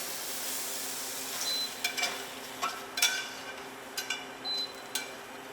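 A wild rice mixture is folded and stirred together in a kitchen, with soft scraping and occasional light clinks of utensil against cookware over a faint steady hiss.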